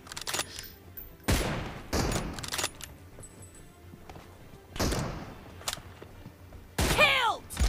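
Rifle gunfire in PUBG Mobile, including a bolt-action M24 in a team deathmatch: several loud single shots spaced irregularly across the stretch, each with a sharp crack and short tail, plus a bright metallic ring near the end.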